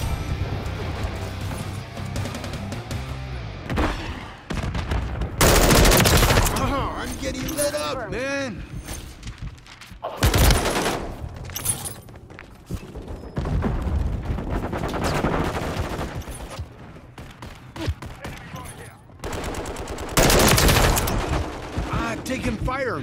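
Automatic gunfire in Call of Duty MW3 Zombies on PS5, with loud, repeated bursts of rapid shots and mechanical clatter, fairly continuous over a gritty, busy game background.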